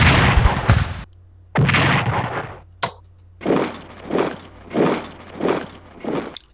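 Artillery fire in the Strategic Command American Civil War strategy game, a series of loud booming blasts: one long volley, a second burst, a sharp crack, then five evenly spaced rumbling shots.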